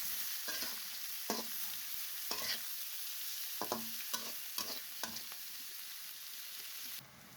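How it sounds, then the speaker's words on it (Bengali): Shredded cabbage is stir-fried with onions in a pan, giving a constant soft sizzle broken by repeated scraping stirs at an irregular rhythm. Faint and close, with no voices. "এখন পেঁয়াজের সাথে এগুলো ভালোভাবে ভেজে নেব"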